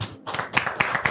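An audience at a health care event for persons with intellectual disabilities breaks into brief, close clapping with several distinct claps in about a second.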